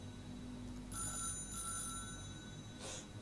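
A telephone rings in the video game Beholder 3, a quiet electronic ring in two bursts with soft background music underneath and no voices.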